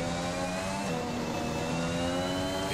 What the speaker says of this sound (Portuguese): Olha o motor.